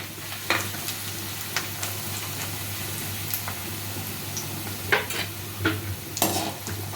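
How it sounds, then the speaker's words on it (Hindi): Makhana fox nuts dry roasting in a pan, a soft continuous sizzle broken by sharp clicks and scrapes as they are stirred and tossed, close and without speech. "अब मखानों को डाल दीजिए।"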